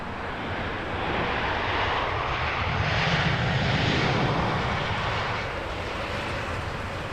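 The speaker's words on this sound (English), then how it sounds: "Aer Lingus taxiing" An Aer Lingus airliner taxis at Heathrow Airport, its engines giving a continuous broad roar that swells slightly in the middle and holds steady at a moderate distance, with no talking.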